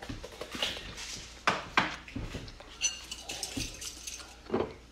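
Cereal spooned into a bowl for a children's breakfast, with a handful of scattered clinks and rattling taps of spoon against dish, close and moderately loud, separated by short pauses.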